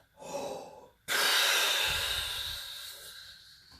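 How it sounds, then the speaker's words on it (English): A forceful breath out during a warm-up breathing exercise: a short breath comes first, then one long, loud, close exhale that pushes out air steadily for nearly three seconds before fading. "I want you to push every last bit of air that you've got now."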